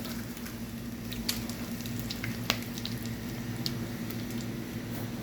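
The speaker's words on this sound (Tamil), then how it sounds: "எண்ணெய் காஞ்சிட்டு ஜீரகம் சேர்த்துருக்காங்க பெருஞ்சீரகம் அது கூட பட்டை கிராம்பு வத்தல் சேர்த்துருக்காங்க" Cumin, fennel, cinnamon, cloves and dried chillies fry in hot oil with a steady, close sizzle and a few sharp pops and crackles scattered across it.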